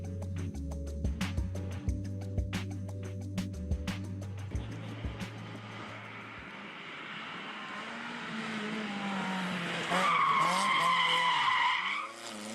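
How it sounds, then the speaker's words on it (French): Race cars climb a hill course, with special exhausts revving in a harmonic drone that rises and falls. Then long tire squeal and skidding swell and hold near the end, loud and unbroken. "le bruit des échappements spéciaux et des pneus torturés"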